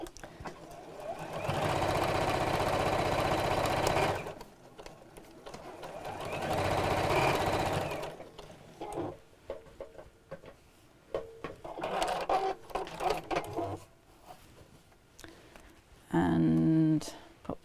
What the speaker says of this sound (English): I'm just going to sew across the top close to the edge